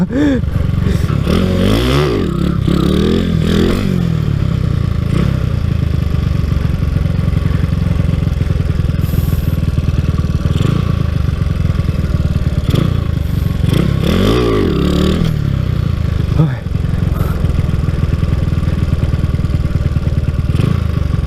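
A Honda Wave 125 with a 54 mm bore revs loud and close during wheelie practice, the engine repeatedly surging and dropping in rapid bursts over a constant mechanical drone, with some clatter.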